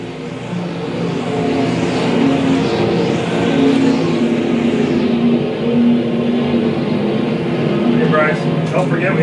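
USRA stock cars in an A-main race roar around a dirt oval at Lakeside, a dense continuous engine drone at close range with a track announcer talking over it throughout.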